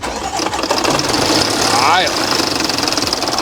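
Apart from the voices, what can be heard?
Land Rover engine rattling from loose timing chain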